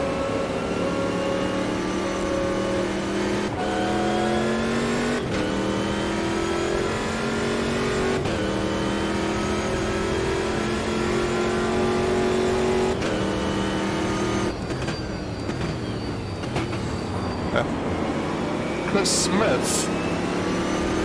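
Race car engine in the video game Automobilista 2 screams continuously at high revs, with repeated sharp gear shifts and rising pitch sweeps, loud and steady throughout, joined by a brief tire squeal near the end.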